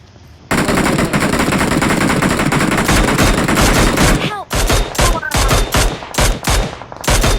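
Rapid automatic gunfire in a video game, a loud sustained burst that breaks into short choppy volleys, close and harsh, with faint voices underneath.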